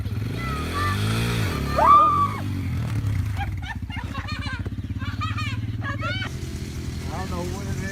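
A motorcycle engine idles and revs under near continuous talk as a rider is coached to ease on the throttle and let the clutch out slowly, with a brief louder rev near the middle.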